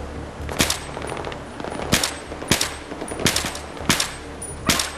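Repeated gunfire at a pole in the video game Battlefield 3: loud, close shots in short irregular bursts about every half second to a second, crisp cracks over a low rumbling background.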